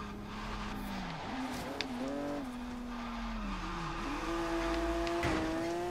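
Tires squeal in a long, wavering drift as a car slides through a lap in Forza Horizon 3's Hot Wheels expansion, the engine droning steadily underneath with pitch swoops and a brief lift near the end.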